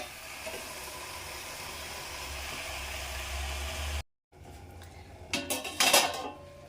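A lid is set over a pot of cooking Sapune greens after spice-paste water is added: steady cooking hiss, a brief gap, then a few close metallic clanks of the lid settling on the pot.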